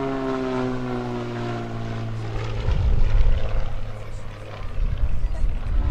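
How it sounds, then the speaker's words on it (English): A T-34 Mentor propeller aircraft passes at an airshow: a loud droning engine with a steady harmonic buzz that swells as it sweeps by and then recedes, with wind rumble underneath. "T-34 Mentor."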